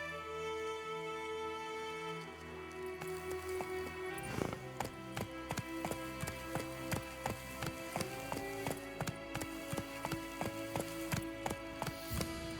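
Roach, a horse in The Witcher III, gallops with a fast, regular clip-clop of hooves that starts a few seconds in over a bed of game music, the hoofbeats close and distinct.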